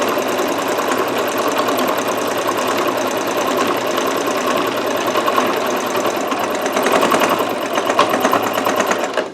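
A sewing machine runs continuously to stitch a slanted, wavy line on denim from used jeans, a close, loud, even mechanical whir with a fast rattling needle rhythm and no pauses.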